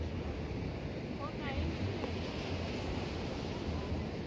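Steady surf and gusty wind noise on a beach, a continuous broadband wash with faint voices in the background.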